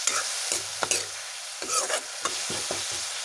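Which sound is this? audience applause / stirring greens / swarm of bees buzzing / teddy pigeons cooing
stirring greens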